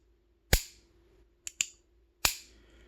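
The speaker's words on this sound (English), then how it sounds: "I'm going to dry fire it, so clench your teeth because there's no cylinder for that to damage" Four sharp metallic clicks of an Otis Smith Model 1873 .32 rimfire five-shot single-action revolver being dry fired, spaced irregularly with a quick pair in the middle, close and crisp in a quiet room.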